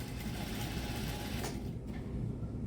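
A sewing machine runs a stitching seam along a shirt neckline, a close, steady mechanical whirr with a brief pause near the end.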